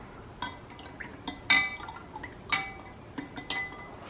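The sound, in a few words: stirring maple syrup into hot water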